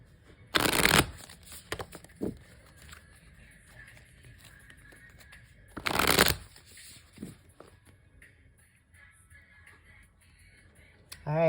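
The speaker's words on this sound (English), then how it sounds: "We'll shuffle these real quickly." Tarot cards are shuffled in two short, loud riffling bursts near the start and again midway, separated by quiet stretches with faint background rustles.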